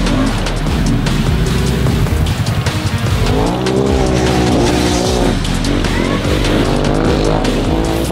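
An off-road vehicle mud riding on a loud outing with friends, its engine revving hard and continuously up and down with sweeping pitch and a squealing, spinning-tire edge, close and dominant throughout with no talk.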